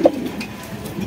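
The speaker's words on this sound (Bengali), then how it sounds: "একদম বিগ সাইজের কবুতর।" Big-size fancy pigeons at a wholesale pigeon market give a short, low coo near the start, then only a soft murmur of background noise.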